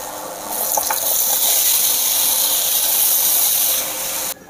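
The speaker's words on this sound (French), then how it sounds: "on remet à chauffer notre poêle pour poêler la deuxième partie de nos pommes de terre en ajoutant aussi un petit filet d'huile d'olive" Potatoes frying in a hot pan with a drizzle of olive oil for tartiflette, a steady, fairly loud broadband sizzle holding for about four seconds before cutting off abruptly.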